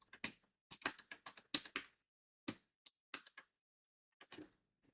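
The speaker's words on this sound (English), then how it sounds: "Now I'm just gonna type in the next command," A computer keyboard clacks close up in quiet, irregular bursts as a command is typed, with short clusters of keystrokes separated by pauses.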